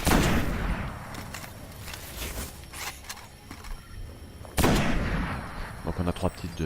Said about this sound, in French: je suis en train de me faire tirer dessus